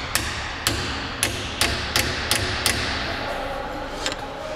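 Repeated hammer taps drive a new oil seal into the transfer case of a Lada 4x4, about nine sharp, evenly spaced metallic knocks that come close and loud over a steady background hum.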